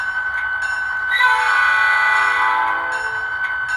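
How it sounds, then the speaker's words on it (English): A Scaletrains SD40-2 model locomotive's DCC sound horn blows one sustained chord of nearly four seconds, swelling louder midway and easing off at the end, with no talking. "So I just think that's a really nice horn effect."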